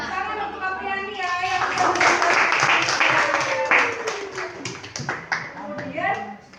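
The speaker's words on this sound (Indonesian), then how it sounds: "Ya, tepuk tangan untuk Apriani ya." Classroom applause during a lesson: a burst of clapping from students, mixed with overlapping voices and chatter, steady for several seconds before thinning out.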